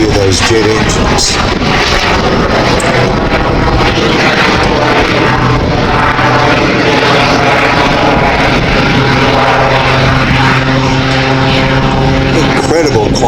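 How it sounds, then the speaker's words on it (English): Rich Goodwin's Jet Pitts aerobatic biplane, with its added jet engines, roars loudly and continuously overhead at the Midlands Air Festival, its engine tones shifting as it manoeuvres. "Certainly hear those jet engines."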